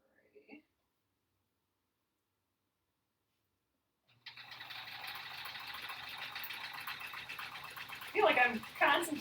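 A sewing machine stitching quilt-as-you-go blocks for a sampler quilt starts up after a long near-silent stretch, then runs at a steady hum for about five seconds, with a few louder clicks near the end.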